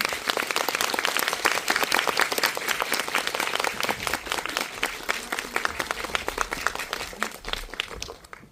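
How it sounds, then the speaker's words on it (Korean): Warm applause from an audience at a special talk welcoming production designer Ryu Seong-hee, dense continuous clapping that holds steady and loud, then tapers off at the very end. "큰 박수 부탁드립니다"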